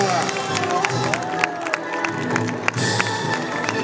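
A crowd claps and cheers at a course camarguaise bull race in Aigues-Vives, the applause mixed with shouting voices and talk, lively and fairly close, with a few sharp bursts.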